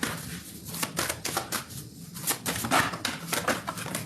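Tarot cards shuffled by hand, a steady run of riffling and sliding card flutters, close and fairly loud, with no talking.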